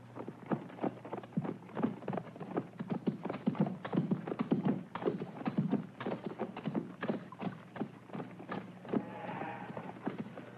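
Hooves of tired horses clip-clop steadily as they haul a heavily loaded baggage cart, a continuous close rhythm of hoof strikes lasting throughout without talk.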